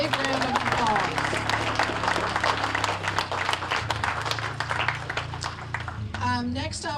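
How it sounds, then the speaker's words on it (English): Crowd claps together at an outdoor cemetery dedication and remembrance ceremony, brisk dense applause with scattered voices murmuring underneath, tapering slightly toward the end where a voice rises. "let's give these people a big round of applause."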